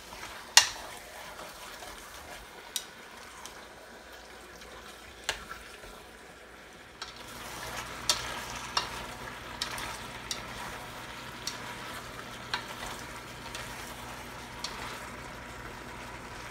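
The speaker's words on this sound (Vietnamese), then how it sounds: "mình xào nó lên khoảng vài phút cho cái thịt nó thấm gia vị." Pork stir-fried in a pan for caramelized pork and eggs, giving a steady soft sizzle with scattered clinks and scrapes of a utensil against the pan, moderately quiet and without talk.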